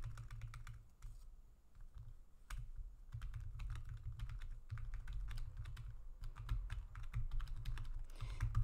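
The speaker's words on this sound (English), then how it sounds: "I only had to type a little bit" Steady typing on a computer keyboard, quick irregular clicks of keys running continuously and close, with a brief pause near the start, no voices.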